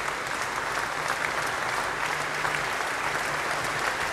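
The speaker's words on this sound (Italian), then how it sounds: "E ora l'applauso" Sustained crowd applause at the funeral ceremony for cycling champion Felice Gimondi, a dense, steady roar of many hands clapping together throughout, with no voices standing out.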